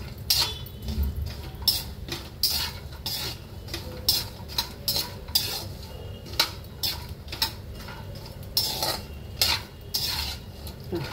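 Dry fruits roast in a pan while a utensil stirs them, giving a run of repeated scraping and clinking strokes in an uneven rhythm over a soft sizzle, close and moderately loud.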